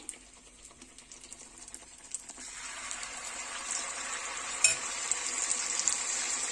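Rava (semolina) batter poured into hot oil, with a quiet stretch before a rising, steady sizzle of frying that builds and stays loud, with small crackles.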